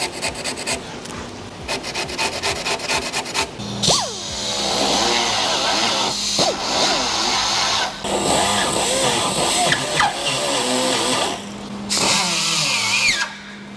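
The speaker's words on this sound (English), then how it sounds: "Kind of sand it down a little bit." Edge of a Vorsteiner carbon fiber body kit part for a Lamborghini Huracan being sanded, close and loud: quick rasping strokes at first, then long continuous grinding passes broken by brief pauses.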